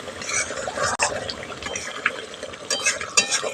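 A spoon stirs sugar into a yogurt pointed gourd gravy in a pot, giving soft wet scraping and clinking in short irregular strokes, close and fairly quiet.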